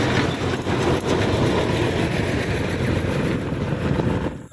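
A sugarcane lorry train rumbles past at night close by, a loud continuous mechanical roar with faint rhythmic clatter from the wagons, fading abruptly at the end.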